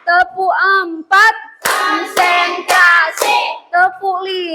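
An Indonesian classroom of pupils claps together in rhythmic patterns, sharp and close, alternating with loud group chanting in unison.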